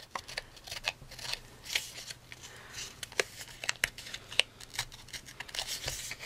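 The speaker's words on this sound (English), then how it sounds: "you just rub your scissors up against it" Scissors edge rubbed against paper edges in junk journal distressing, a series of quick dry scraping strokes at irregular rhythm, close and fairly quiet, no talking.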